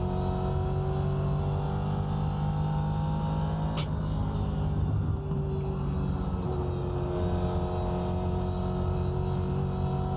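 Race car engines droning in a racing video game, a steady layered hum of several cars with shifting engine pitch as one laps past, with a brief sharp click partway through.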